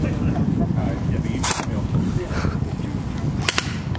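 Airsoft guns fire during an outdoor game, giving a few sharp snapping shots, a lone one and then a quick pair, over a rough background of noise and voices.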